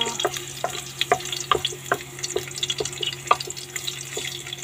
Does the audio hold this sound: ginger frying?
yes